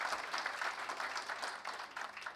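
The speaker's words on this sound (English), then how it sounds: "he deserves a round of applause" An audience at a health organisation launch applauds Akshay Kumar, steady dense clapping from a large crowd heard at a moderate distance, filling the whole moment without talk.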